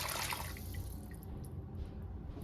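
Water is poured into a cooking pot for chicken yakhni pulao, a steady, fairly quiet splashing and trickling stream that runs throughout with no voices.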